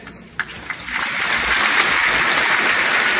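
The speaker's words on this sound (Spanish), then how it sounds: "Aplausos en el hemiciclo ante la lectura del acta de independencia" Applause fills the Peruvian congress chamber at a presidential handover ceremony, starting with a few scattered claps and swelling within a second into loud, sustained clapping from a large crowd.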